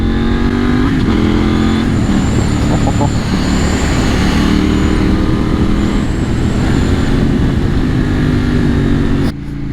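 A motorcycle engine drones loudly and steadily while riding, with wind rush and occasional pitch shifts as the throttle changes.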